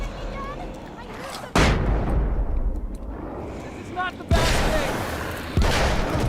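Several heavy blasts from a flashbang in the video game Alan Wake's American Nightmare, three sharp loud booms at irregular intervals, each followed by a rumbling tail over a noisy game background.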